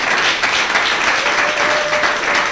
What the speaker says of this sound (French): que je vous prie d'applaudir très très très fort